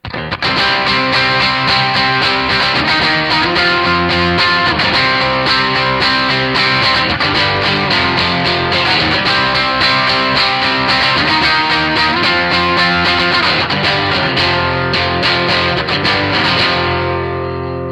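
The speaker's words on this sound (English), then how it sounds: "A lot of people have loved this Atlas amp because it does work so well as a guitar amp too" Distorted electric guitar played through a Kemper profiling amp loaded with an Atlas amp profile, a loud, continuous run of chords and notes with no pauses, alone without talk, ringing out at the end.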